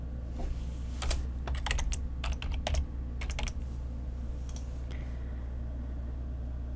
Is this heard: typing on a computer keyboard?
yes